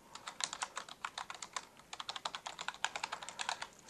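Quick, uneven keystrokes on a computer keyboard as a terminal command is typed, close and fairly quiet, with short pauses between bursts and no talking.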